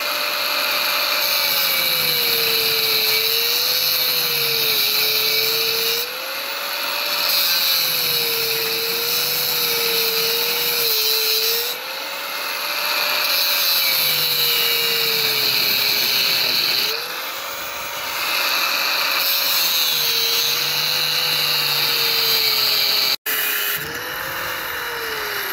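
A power tool cuts through 2-inch galvanized steel pipe in a building shutoff-valve installation, giving a loud, steady high-pitched whine with a wavering motor pitch, briefly dipping and resuming several times before stopping near the end.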